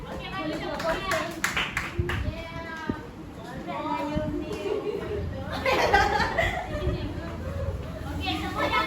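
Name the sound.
class clapping hands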